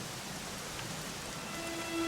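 Steady rain pours down in the Dragon Quest XI game world, a dense even hiss with no voices over it.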